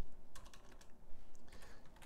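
Keys on a computer keyboard are pressed, including the F6 shortcut key, making faint, quick, close clicks in short clusters over a quiet background.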